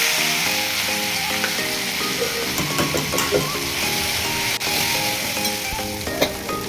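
Finely chopped coriander, green chili and garlic sautéing in a pan for a festive vegetable dish, giving a steady close sizzle with scattered stirring clinks and scrapes of the spoon, and no talking.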